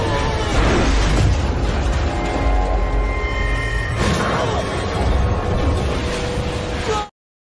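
Ship explosion in a dramatic action film, a heavy booming blast with rumbling debris and roaring aftermath, loud and dense under the film's soundtrack, with a second surge midway before the sound cuts off sharply.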